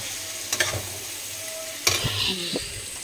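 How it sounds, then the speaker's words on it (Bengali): Onions fry in a pan at home while dal simmers, a quiet steady sizzle with a few sharp stirring scrapes and clinks of a utensil against the pan. "এই যে পেঁয়াজটা আমি ভাজতে দিয়েছি লাল লাল করে।"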